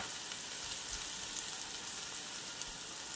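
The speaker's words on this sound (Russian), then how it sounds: "И добавлю чеснок. Немножко поджарится." Steady, crackling sizzle of garlic frying in hot oil in a pan, continuous and close, with no voices.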